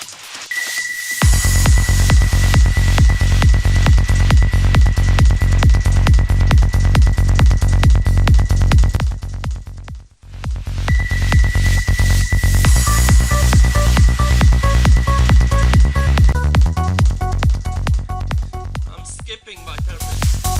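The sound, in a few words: psytrance music track with kick and bass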